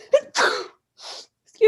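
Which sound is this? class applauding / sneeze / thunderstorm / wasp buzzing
sneeze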